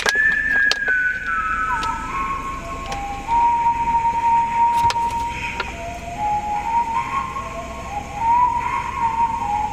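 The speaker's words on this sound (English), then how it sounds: "That whistle's got a pretty creepy sound once you cut the beat out." A whistled melody from a song with the beat removed sounds as a sliding, wavering tone over a quiet backing with a few sharp clicks.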